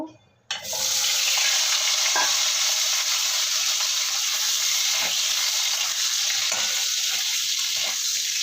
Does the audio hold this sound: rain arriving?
no